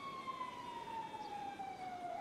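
Police sirens in GTA roleplay, a steady high wail slowly gliding downward in pitch, continuous and moderately loud over a dense background of engine and road noise, with no speech.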